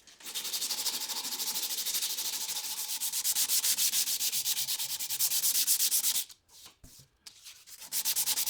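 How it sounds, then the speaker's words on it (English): Wood is sanded by hand with 120 grit sandpaper in fast, even back-and-forth rasping strokes, close and continuous, pausing briefly near the end before the rubbing resumes. "I'm using 120 grit sandpaper. I could have gone coarser, but it only took a couple of minutes to sand each side."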